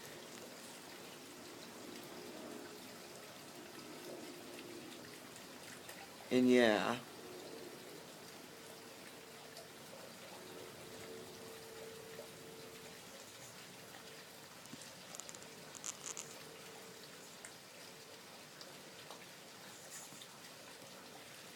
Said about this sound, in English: Sorry if you can't see the rain, but it is heavy, heavy rain right now.